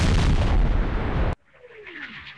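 A dense, loud blast of artillery fire in a wargame video game roars for over a second, then cuts off abruptly into a faint whistling trail and low rumble.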